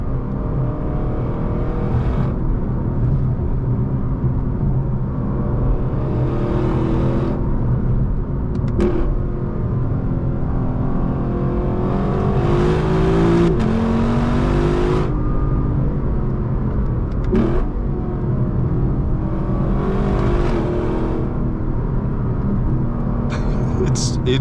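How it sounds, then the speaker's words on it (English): A 2025 Lexus LC 500 with its engine in full sport mode revs toward 7,300 RPM on a road, a loud, sustained in-cabin engine roar that climbs and falls repeatedly across the drive. "The engine noise is just brutal."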